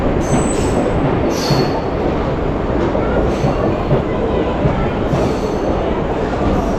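A Ratnagiri-Diva MEMU passenger train pulls into Sangameshwar station, its loud, steady rumble and rattle of wheels on rails filling the platform for several seconds, with faint squeals above.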